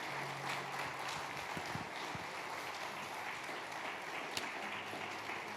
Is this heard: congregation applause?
yes